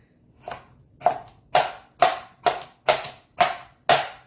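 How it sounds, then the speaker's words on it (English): A bladed strawberry slicer pressed down through fresh strawberries, giving eight evenly spaced, sharp chopping thuds close by, each cut crisp and distinct with short gaps between them. "Sliced strawberries, quick."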